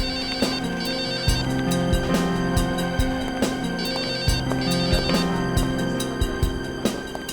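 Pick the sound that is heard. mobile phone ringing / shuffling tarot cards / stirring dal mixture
mobile phone ringing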